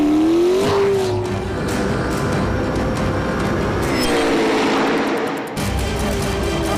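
A McLaren P1 supercar is driven hard on a flying lap, its loud engine roaring and rising in pitch through the gears, with a brief dip and crackle on a shift before pulling again.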